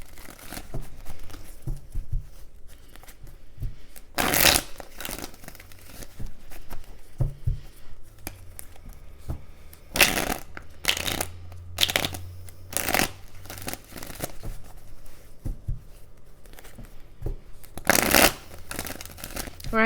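Tarot cards shuffled for a reading in bursts of crisp riffling and snapping, several sharp flurries separated by softer handling sounds, close and fairly loud with no talking.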